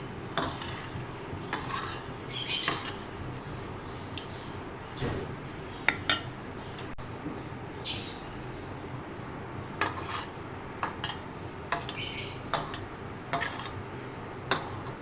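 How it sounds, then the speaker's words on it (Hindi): A tablespoon stirs in a pan while making instant bread gulab jamun, with soft scraping strokes and occasional light metallic clinks against the pan, close and fairly quiet, no talking. "कंटिन्यू जो है स्पून इसी तरह चलाते रहना है।"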